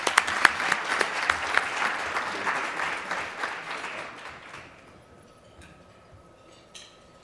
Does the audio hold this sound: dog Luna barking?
no